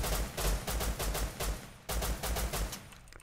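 Gunfire in the video game Rust comes as two loud strings of rapid, evenly spaced shots with a brief pause between them and no talk over them.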